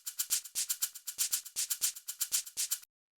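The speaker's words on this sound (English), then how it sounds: "So basically, it's just two different shakers." Two shakers play an interlocking rhythmic pattern, crisp bright swishes in a steady groove, close and alone, stopping abruptly near the end.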